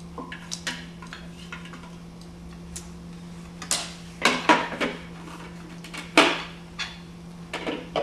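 A rubber spatula scrapes a raw food mixture out of a container into a mixing bowl, making a few quiet ticks and scuffs followed by louder clacks and knocks against the bowl, with a steady low hum underneath.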